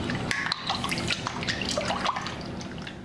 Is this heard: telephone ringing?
no